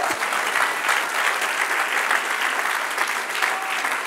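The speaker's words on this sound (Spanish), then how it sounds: "Dale un aplauso al Señor" A church congregation applauds steadily at a Spanish-language sermon, a dense, continuous wash of clapping with a few cheers mixed in, fairly loud and close, lasting the whole span without a break.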